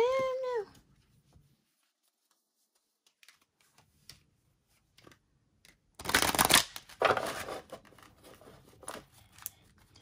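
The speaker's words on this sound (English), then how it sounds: "let's try side shuffling instead of the bridge shuffle" Large Sacred Geometry oracle cards being side-shuffled, a loud crisp riffling burst in the middle followed by softer papery rustles and taps, with a brief meow-like tone at the very start.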